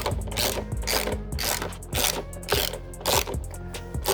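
A hand ratchet clicks in quick repeated bursts while loosening a mirror mount on a Honda CBR650R motorcycle, loud and close with a mechanical grinding edge, and no talk.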